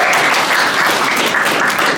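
Audience at a boxing press conference gives a round of applause, a dense, steady burst of clapping filling the short moment at close, even loudness.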